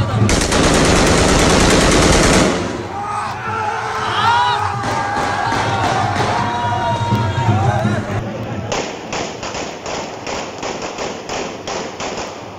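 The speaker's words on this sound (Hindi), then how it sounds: "जबरदस्त हवाई फायरिंग की" Celebratory aerial gunfire by lawyers after a bar election result, rapid bursts of shots opening loudly, then crowd noise and shouting, followed by a sharp repeated series of shots near the end.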